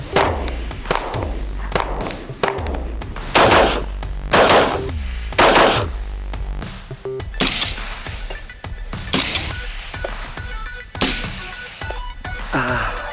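Repeated gunfire in bursts, with loud sharp reports and heavy thumps spaced irregularly, some shots crowded into rapid clusters, booming close and forceful.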